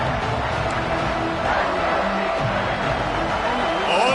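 A dense stadium crowd roars continuously and loudly at an Auburn home game in a college football video game, with someone talking over the steady wash of cheering.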